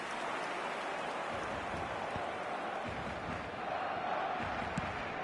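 Stadium crowd in the football video game eFootball 2026 roars and cheers in a steady, dense wash, loud and continuous for several seconds with no break.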